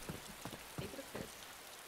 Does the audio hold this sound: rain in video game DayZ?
yes